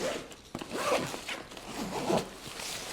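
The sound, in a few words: YKK zipper on a backpack being opened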